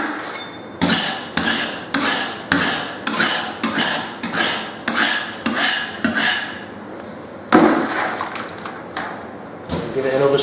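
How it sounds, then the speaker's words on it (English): Repeated scrubbing strokes on a wall after wallpaper has been stripped, about a dozen rhythmic rasping swipes close up, steady and even, with a brief pause and a heavier stroke near the end. "Give it another scrub"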